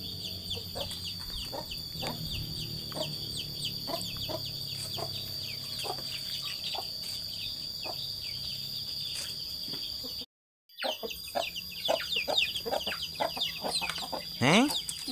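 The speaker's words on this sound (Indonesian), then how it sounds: "Ini ayamnya banyak banget ya" A large flock of village chickens in rural West Java cluck and squawk continuously under constant crickets, with a brief dropout and a louder close call near the end.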